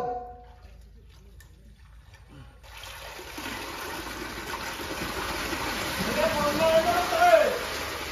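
Water rushes in through a lifted main sluice gate on a village canal, rising from quiet into a loud steady gush that swells toward the end, with voices talking over it.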